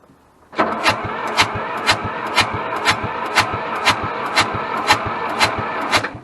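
A Hamm DV3K roller's diesel engine cranks into life, then settles into a loud, close, rhythmic chugging, with regular pulses roughly every half second and no voices.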